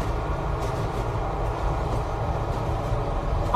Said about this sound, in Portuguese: A porta do vagão do trem se abriu e o barulho dos trilhos e o zumbido das conversas lotaram.